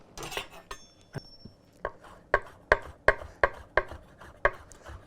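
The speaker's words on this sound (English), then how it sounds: "Chop the tarragon, goes in here." A knife chops tarragon on a board in a quick series of about a dozen crisp, close taps that settle into a fairly even rhythm, with no talking.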